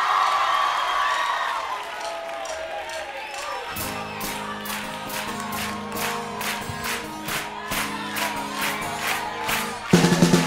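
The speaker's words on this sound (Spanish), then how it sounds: "un aplauso para él muy grande" Concert crowd at Sala Bikini applauding and cheering, a steady wash of clapping and shouts under music and a voice.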